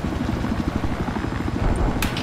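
Helicopter in Battlefield 4 during a large conquest match, its rotor thumping in a steady fast chop, loud and close throughout.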